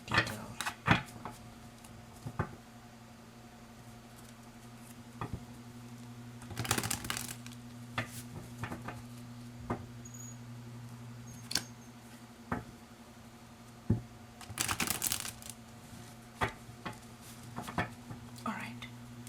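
Tarot cards being shuffled by hand: quiet, soft papery bursts and scattered light clicks, with two longer shuffling flurries, over a low steady hum.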